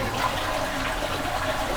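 A toilet flushing in a small hotel bathroom in Osaka, Japan: a steady, loud rush of water running through the whole short moment, close by, with no talk over it.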